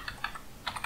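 Quick keystrokes on a computer keyboard as a password is entered at a login prompt, about six light clicks in two short bursts, close and quiet.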